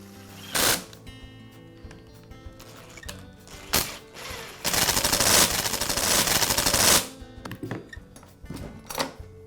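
Screws being driven to secure the starter on a Poulan chainsaw, with short bursts of rapid buzzing clicks from a driver, one long run in the middle, and small handling knocks between, close and moderately loud, no talking.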